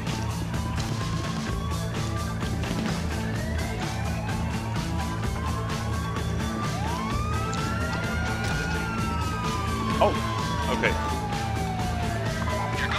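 A police car siren wails in a driving video game, rising and falling sweeps over a steady engine rumble, with someone talking over it.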